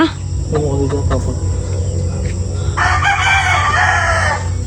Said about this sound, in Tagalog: Mag-iingayin ng manok, baka tayo maparinig.